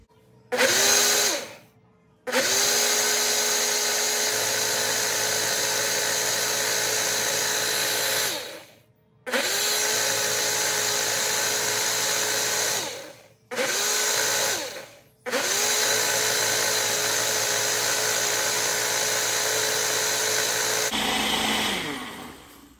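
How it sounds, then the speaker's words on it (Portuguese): A Nutri Ninja Auto IQ blender mixes a smoothie, running loud and close in long automatic pulses separated by brief pauses, its motor whine steady through each cycle before stopping. "E vamos apertar em misturar."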